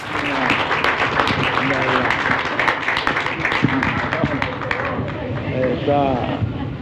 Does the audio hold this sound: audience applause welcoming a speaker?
yes